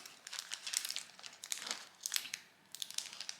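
A plastic package of diamond painting diamonds is handled and opened close up, giving bursts of quiet crinkling and crackling with brief pauses between them and no voices.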